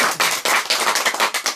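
An audience at a lecture claps together, dense fast irregular hand claps in a close, lively burst that fills the whole moment without speech.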